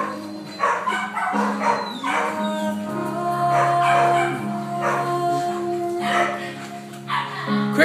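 Several dogs at an adoption shelter bark, yip and howl in overlapping bursts throughout, close and loud, with a steady low hum underneath.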